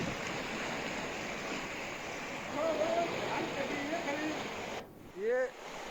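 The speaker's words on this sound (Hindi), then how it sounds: "ये सुसवा नदी है" Floodwater rushing along the swollen Suswa river, a broad, steady roar of moving water filling the scene throughout, with a brief rising whistle-like tone near the end.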